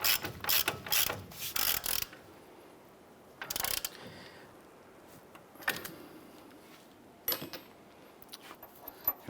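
A ratchet with a 22mm socket tightens the upper ball joint nut on a 2011–2018 Ram 1500 during a wheel bearing and hub job. Quick clicking runs come at the start, then shorter bursts and isolated clicks follow in a quiet shop.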